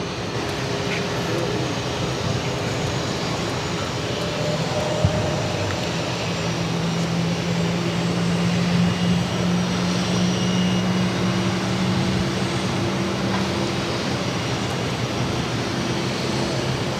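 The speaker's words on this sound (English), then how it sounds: "The A330 landing, catching that American 737." An Airbus A330 airliner landing at Boston Logan, a steady distant roar of engines and rushing air with a faint rising whine, heard continuously for many seconds without talk.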